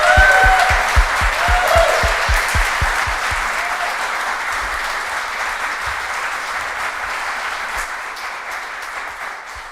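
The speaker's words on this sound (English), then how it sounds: "we should have another round of applause for Alex because he did most of the work." Audience applause fills a conference talk hall at a BSides Frankfurt security event, a steady wash of many hands clapping for the full stretch, loud at first and easing slightly, with a low rumble of movement beneath.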